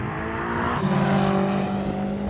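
A tuned BMW M5 accelerating hard in a drag race, its engine note rising and swelling into a loud, sustained roar with a whooshing pass partway through, heard from nearby without speech.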